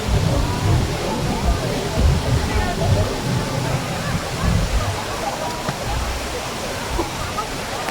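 Batlag Falls waterfall flowing with a steady, continuous roar and splashing wash, somewhat low water in the dry summer season, close by and unbroken throughout.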